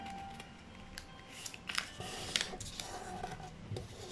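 Origami paper for a modular flower is unfolded and creased by hand, giving crisp rustles and sharp crinkling snaps that rise in the middle, close and fairly loud, with no talking.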